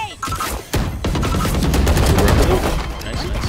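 Gunfire in the video game Valorant comes in sharp clustered bursts, with a brief lull early on before a dense, continuous stretch of rapid shots.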